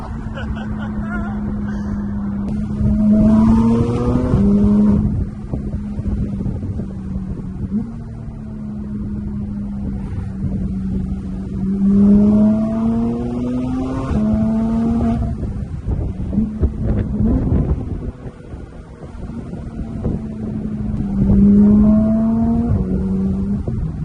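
A Porsche GT3 engine drones steadily while driving on a highway, its pitch rising and falling through several shifts under ongoing talk from people inside the car.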